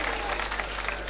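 Applause from an audience at an all-India Hindi poetry gathering (kavi sammelan) in 2016, a steady dense wash of clapping at close range with no gaps across the brief moment.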